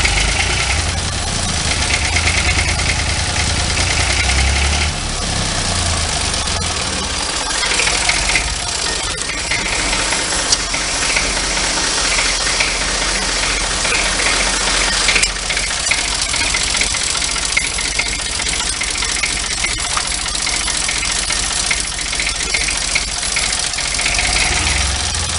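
A Renault D30 tractor engine idles loudly and close after being revved, a continuous rough, knocking diesel rumble that steadies over the full stretch with no voices.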